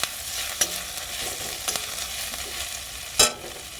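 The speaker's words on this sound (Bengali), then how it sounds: "আদাটা খুব সুন্দর করে ভাজা ভাজা হয়ে গেছে" Ginger frying in hot oil crackles and sizzles steadily, with a few sharp scrapes of a spoon stirring the pan.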